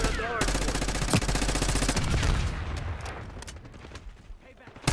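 Rapid automatic gunfire from Black Ops 6 multiplayer rattles in dense bursts, loud and close, tapering to scattered shots while someone talks over it.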